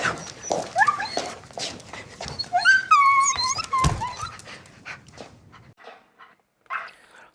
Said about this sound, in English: The doggy, the puppy whining it looks pretty real to me.